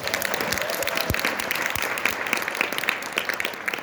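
An audience at a seminar gives a sustained round of applause, many hands clapping at once in a steady, dense patter at moderate volume with no talking over it.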